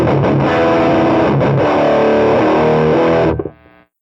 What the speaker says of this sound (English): Let's start again with the blue Supercharger G.T.O.